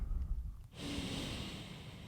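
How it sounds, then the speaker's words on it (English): A slow, deep breath drawn in during a yoga pose, heard close as a soft airy inhalation that swells after a brief rustle and holds steady to the end. "Expanding the belly and the chest as you breathe in."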